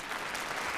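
Applause from a small studio audience on a sports talk show, a steady brief patter of clapping at moderate level with no voices over it.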